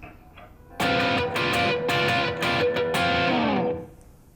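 Funky electric guitar riff with a distorted, effects-laden tone, a burst of choppy rhythmic phrases played loud and alone for about three seconds, leading into a solo before it cuts off.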